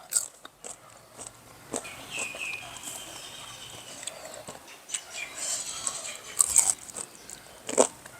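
Close crunchy bites and chewing of crispy fried golden pumpkin fritters, several sharp crunches spaced irregularly over soft mouth sounds, with faint speech in places.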